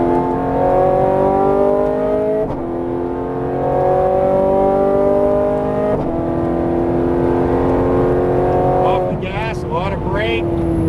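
Ferrari 430 Scuderia engine accelerating hard on a track, a loud, close rising howl climbing through the revs with brief dips at gear changes, while an instructor talks over it.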